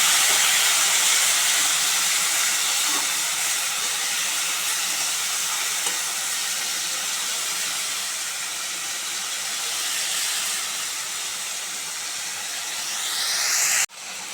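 Marinated amudi fish dropped into hot oil with fried onions, giving a loud, steady broadband hiss and sizzle that holds for the whole stretch and cuts off abruptly at the end.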